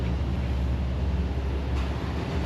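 A Chevrolet Tahoe with a Corsa exhaust rumbles with a low, steady throaty drone at moderate distance, with no talking.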